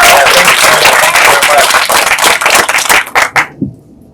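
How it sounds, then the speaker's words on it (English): A poetry audience at a Chicano and LatinX spoken-word afternoon bursts into loud, dense, close applause that holds steadily for about three seconds, then breaks into a few separate claps and stops. "how about one more round of applause for Sonia"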